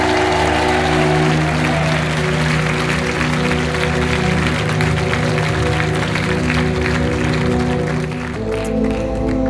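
Studio audience applause on the French game show Money Drop, a dense, steady wash of clapping that carries on for several seconds alongside a sustained musical tone, then shifts abruptly near the end.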